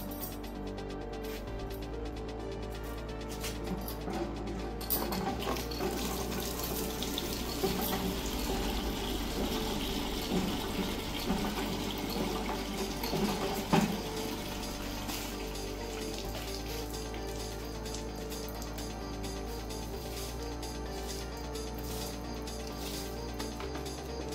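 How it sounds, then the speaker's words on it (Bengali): Flower plants outdoors are watered, a faint steady splash and patter of water on leaves and soil running continuously for a long stretch at a moderate distance. "আমি ফুল গাছে জল দিই"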